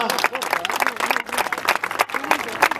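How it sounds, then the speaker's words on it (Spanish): Steady applause from a crowd at a rowing regatta in Mundaka, with cheering and voices mixed in, continuous and fairly loud throughout. "Qué gran regata, fuerte aplauso para Ibaika."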